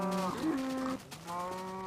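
Cows mooing in Minecraft, two drawn-out lowing calls in close succession, clear and alone with no talking.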